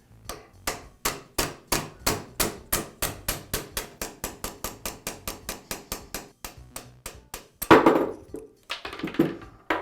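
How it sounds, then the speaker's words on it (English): A steel punch is struck repeatedly with a hammer to drive the armature of a DeWALT laminate trimmer out of its bearing, the bearing held in a separator on vise jaws. More than twenty sharp, evenly spaced metallic strikes ring out close up, followed by a couple of louder, rougher knocks. "Then I'll use a punch to tap the armature out of the bearing."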